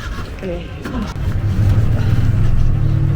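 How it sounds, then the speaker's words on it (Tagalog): A tuk-tuk engine in Siem Reap, Cambodia revs up from idle into a close, loud rumbling drone as the vehicle pulls away, with people talking over it at the start. "Ito yung sasakyan natin na tuk-tuk."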